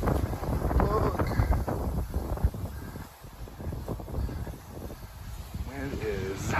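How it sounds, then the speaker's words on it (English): Gusty wind buffets the microphone outdoors, a steady low rumble that swells and dips throughout while a person talks over it. "Wind is blowing."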